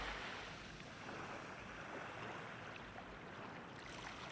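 Shinimizu Spring water churning and surging as if about to overflow, a dense, steady wave-like roar with no breaks, moderately faint and alone.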